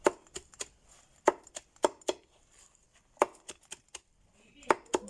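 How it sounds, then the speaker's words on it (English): Knife chopping sweet potato leaves on a board for bird feed, giving sharp, uneven thwacks in quick bursts with short pauses, close and fairly loud, no talking. "just chop it this way, so it will be easy for them to swallow"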